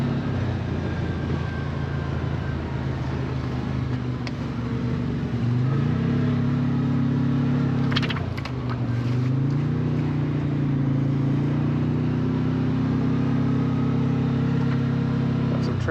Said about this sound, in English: Let's do a quick speed run to see how this thing accelerates